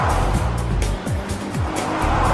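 Busy New York City street traffic, with a steady loud roar of car engines and several vehicles sweeping past close by in a row.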